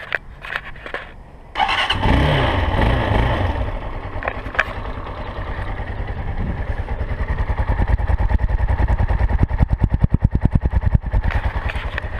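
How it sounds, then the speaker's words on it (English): A 2020 Brozz 250 Recon motorcycle starts up and runs with a restricted, quiet exhaust, settling into a steady, close idle with a pulsing throb that builds slightly toward the end. "This thing is whisper quiet when it comes to motorcycles"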